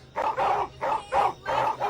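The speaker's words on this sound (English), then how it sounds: "You are agitating my dogs." Guard dogs bark at midnight in a run of about five loud, close, evenly spaced barks, each lasting a fraction of a second, with a steady low hum underneath.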